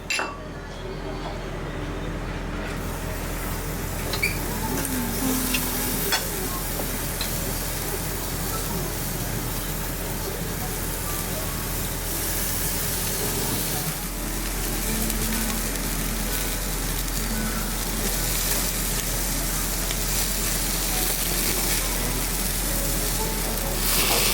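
Halal wagyu meat sizzling on a grill at a Tokyo restaurant, giving a steady, loud hiss that runs the whole time, with faint clinks of dishes and voices in the background.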